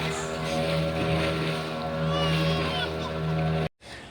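A motorboat drones steadily on the sea at Devbagh, its engine hum loud and close over water rush, before cutting abruptly to near silence at the very end.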